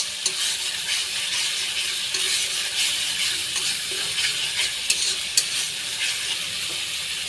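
Spice masala for a Bengali-style katla fish curry sizzles and fries in a pan while being stirred, a steady close hiss broken by occasional sharp scrapes and clinks of the spoon, with no voices.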